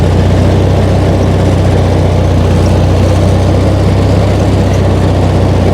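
Ride-on tractor mower recently fitted with new HT leads, its engine droning steadily and loudly at close range as it labours through long grass.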